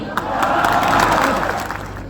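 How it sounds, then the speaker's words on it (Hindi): An audience at a comic poetry gathering in Varanasi claps steadily, a dense broadband patter of applause that fills the whole stretch at fairly loud level, with some scattered voices mixed in. "आप लोगों को तालियां बजानी ही होगी।"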